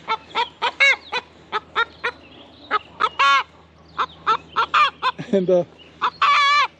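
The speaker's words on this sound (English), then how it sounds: "So a lot of times I'll get chickens back here and they get in these bushes." Chickens clucking and squawking among backyard bushes, a close run of sharp, rhythmic calls with a few longer drawn-out squawks, a brief spoken word slipped in.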